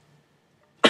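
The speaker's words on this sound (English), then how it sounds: "I've got a bad cough." A single short cough bursts out at the very end after near silence, close and fairly loud.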